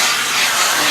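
A steam iron presses a fabric waistband, giving off one continuous loud hiss of steam that lasts the whole second, close and alone.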